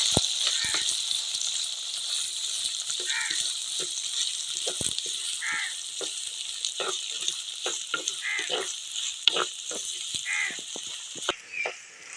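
Chopped onions frying in a pan for aval upma, a steady loud sizzle throughout with occasional stirring clinks and scrapes.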